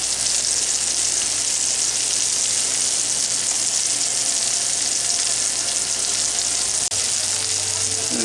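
Tuna steaks sear in a hot pan, giving a loud, steady, close sizzle that holds unbroken throughout, with a brief clink near the end.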